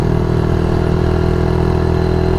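A Suzuki DRZ 70 small motorcycle engine idles with a steady, slightly gruff exhaust putter, close and continuous throughout with no talking.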